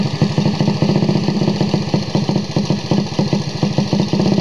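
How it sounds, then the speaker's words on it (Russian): A trial motorcycle engine holds a raised idle nearby, a loud, rapid, steady mechanical putter with slight vibration, being readied for motorcycle trials. "Вот, я добавил обороты."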